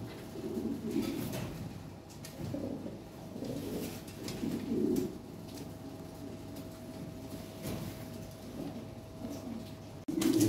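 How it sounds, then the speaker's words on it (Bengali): Large pigeons for sale coo steadily in soft, low, repeated throbbing calls, several birds overlapping close by amid a faint steady hum, with a brief clatter at the end. "বিগ সাইজের কবুতর পাই, দেখার মতো কবুতর"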